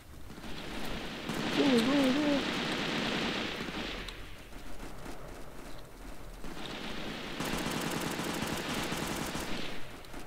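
Bursts of rapid gunfire from the video game Delta Force Xtreme, two dense sustained volleys separated by a quieter stretch, with faint player talk in between.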